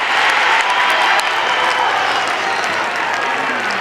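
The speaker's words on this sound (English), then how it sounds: "The crowd roars at the QEO." A large crowd roars at the QEO ground during a Bendigo senior grand final football match between Sandhurst and Eaglehawk, a loud, dense, sustained wall of cheering and clapping just after a goal is kicked.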